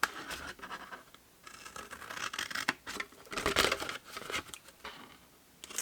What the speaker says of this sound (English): So cut away that part and then cut straight down all of those.